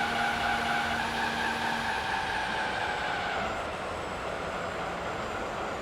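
A race car engine in Gran Turismo 3 drones with a steady, loud roar that sounds like a plane, tonal layers holding without a break and no talk over it.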